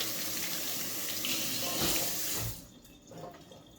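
Cold tap water running steadily into a bucket for about two and a half seconds, a loud even rush that cuts off abruptly, followed by quieter room sound.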